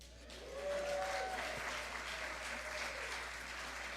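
A church congregation applauds on Palm Sunday, a steady wash of clapping that swells quickly and holds for several seconds, moderately distant in the room.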